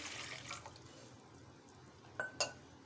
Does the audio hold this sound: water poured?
yes